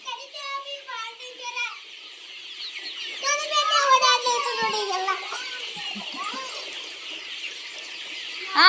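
Chickens on a village poultry farm cluck and chirp in a busy, overlapping chorus at close range, with children's and adults' voices talking over the birds throughout.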